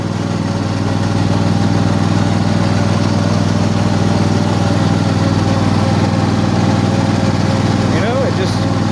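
A Troy Bilt riding mower drags a harrow across a lawn, its small engine holding a steady, loud, close drone with rumbling underneath and a voice briefly heard near the end.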